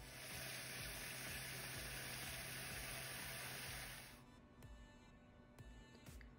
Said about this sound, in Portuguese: encher a panela de água